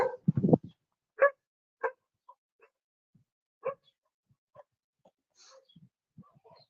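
Village dogs barking from behind gates, a burst of several quick barks followed by scattered single woofs and softer yips spaced out over the seconds, fairly close with quiet gaps between.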